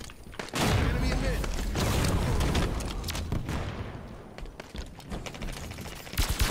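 Grenade blast and gunfire in a multiplayer shooter game: a heavy booming explosion followed by scattered shots and battle noise, loud and continuous throughout.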